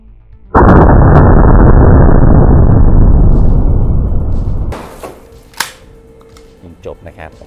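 A Derya Carina shotgun fires buckshot at a water-filled gallon jug: a loud blast opens into a roaring, sustained burst of noise for several seconds, then fades to quieter clatter and a few faint knocks.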